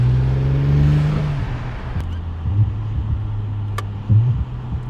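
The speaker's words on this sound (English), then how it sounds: "It has a more bassy downshift though." An Audi B9 S4 fitted with an ECS X-pipe exhaust drones with a deep, steady rumble from close by, with low, bassy blips from downshifts near the middle and end.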